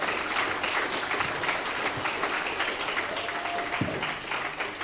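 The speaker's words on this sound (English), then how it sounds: "So let's give our panelists a round of applause." Applause from an audience at an evening ocean workshop on deep sea mining, honoring the panelists: steady, fairly quiet broadband clapping throughout, with a faint tone and a brief low thump near the end.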